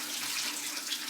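Water runs steadily from a tap for washing with soap, a soft, even hiss and splash with no voices over it.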